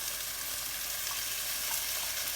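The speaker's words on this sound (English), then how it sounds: "We're going to saute my onions." Onions with orange and red peppers sautéing in a pan, a dense, even sizzle holding steady and close throughout with no voices.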